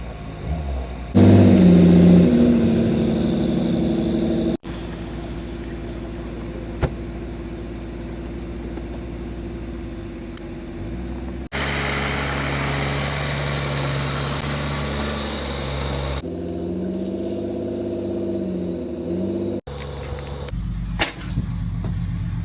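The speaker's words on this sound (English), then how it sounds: "Got the dually to pull the trailer out from over there." A dually pickup truck pulling a trailer, its engine idling and revving in shifting stretches, close and loud, with abrupt changes in tone throughout.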